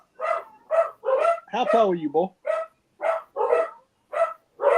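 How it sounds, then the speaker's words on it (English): Several dogs bark in a house in short, regular bursts across the whole stretch, loud and close, with a voice speaking briefly in the middle. "Y'all excuse the dogs."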